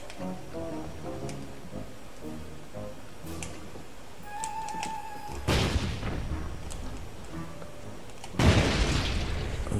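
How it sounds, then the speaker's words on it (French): Ship cannons fire in a pirate game set in the Caribbean, two loud broadband blasts booming out over a quieter background of ticking and game sounds, each followed by a rumbling tail. "relâche-le pour faire feu"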